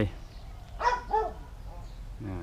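A dog barks outdoors at an open flying field, giving two short barks close together against a faint background hum, with possible voices nearby.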